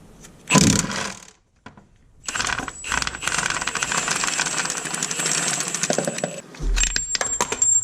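An impact wrench driving an extension and universal joint on the transmission of a JDM Honda S2000 during gearbox removal, with a sharp clank at the start followed by several seconds of loud, continuous hammering rattle that cuts off abruptly.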